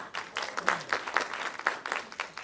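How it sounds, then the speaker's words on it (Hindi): An audience at a film trailer launch claps in rhythmic, evenly spaced beats, a small crowd clapping in near unison at moderate loudness with a faint murmur beneath. "डबल ताली बजाइए"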